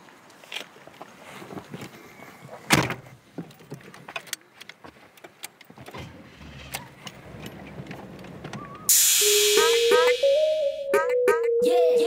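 A Cadillac Fleetwood Brougham d'Elegance door opens and shuts as the driver climbs in, with scattered close clicks, knocks and rustling, followed by a steady loud whoosh and then a rising electric whine.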